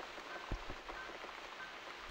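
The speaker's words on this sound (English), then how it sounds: "got the rain back" Rain in The Cat Lady video game falls steadily as a soft, constant hiss, with a few faint low thuds and no voices.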